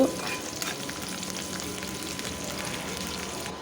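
Tempering for tomato rasam fries in hot oil with a dense, even crackling sizzle that runs unbroken and close up from start to finish.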